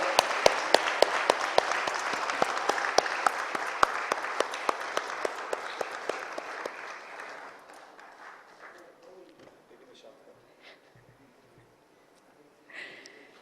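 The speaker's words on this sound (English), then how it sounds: "A big round of applause for both our heroes here today." Audience applause greets cricket legends Sunil Gavaskar and Gundappa Viswanath on stage: loud, sustained clapping with sharp nearby claps that gradually thins and fades, then a brief late swell.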